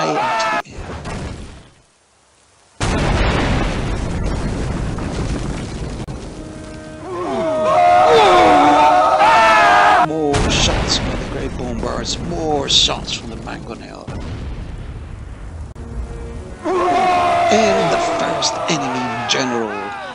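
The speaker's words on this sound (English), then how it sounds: "This is the effect of the great bombard shots." Great bombard cannons fire during a large Teutonic siege battle in Medieval II: Total War, with heavy booming impacts and rumbling crashes amid battle noise, loud and close, with someone talking over much of it.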